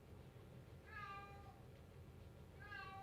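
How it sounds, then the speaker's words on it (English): A female cat in heat yowls in the background of a sports discussion, two drawn-out, wavering meows rising and falling in pitch, faint and distant over a low, steady hum. "cat is still in heat. She's in the background yelling"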